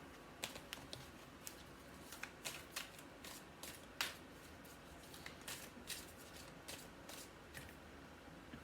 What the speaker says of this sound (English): let's pull a card from the Wisdom of the Oracle.